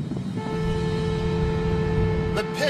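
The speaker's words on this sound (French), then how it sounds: "Le ton du klaxon est constant, bien que la voiture soit en mouvement." A car horn held as one steady, constant tone while the car drives along, loud over road and engine rumble.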